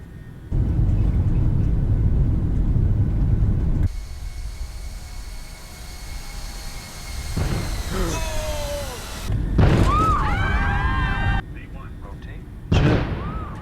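A Boeing 737-800 airliner engine explodes after a birdstrike on takeoff from Menorca in a flight simulator game. Loud rumbling engine roar and abrupt bursts and bangs come with cockpit alarm tones and sudden changes in level, and voices talk between them.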